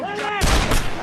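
A handgun fires in a film scene, a sudden loud bang that cuts in partway through and rings out briefly over a tonal background.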